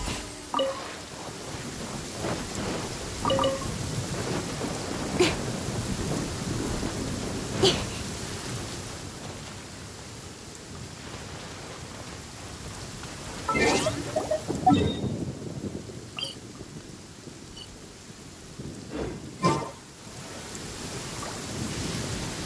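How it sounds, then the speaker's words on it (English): A thunderstorm in the video game Genshin Impact, with steady rain hissing throughout and several sharp thunder cracks and rumbles rising above it at intervals. "Thunder and lightning can be quite frightening, but don't worry."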